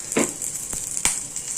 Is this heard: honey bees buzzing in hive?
no